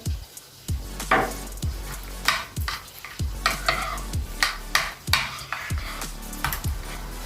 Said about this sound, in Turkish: Şöyle yavaşça karıştıralım